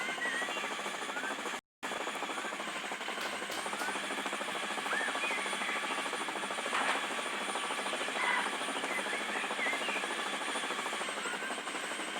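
A helicopter flies in the mobile game Dude Theft Wars, its rotor and engine producing a loud continuous whirring drone that holds steady throughout, broken by a brief dropout near the start.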